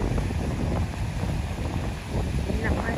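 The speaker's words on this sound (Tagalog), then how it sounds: "Malakas ang hangin." Strong typhoon wind sweeps across a beach during Typhoon Kristine. It makes a loud, gusty roar that buffets the microphone, rising and dipping over a low rumble.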